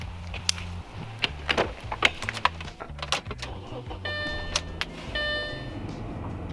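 Audi A4 B7 after a transmission line repair and fluid refill, its engine running with a low steady drone under scattered clicks, knocks and electronic chimes from the car, close and fairly loud.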